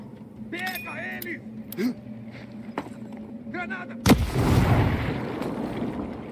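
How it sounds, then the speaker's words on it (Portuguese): A heavy artillery blast in a video game, one loud, sudden boom followed by a rumbling roar that trails off, preceded by a man's speech and some lighter clicks. "Ai, tem mais uma artilharia pesada."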